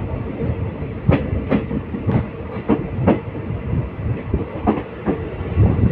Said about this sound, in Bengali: জাস্ট বৃষ্টির দিনে এরকম একটা ট্রেন জার্নি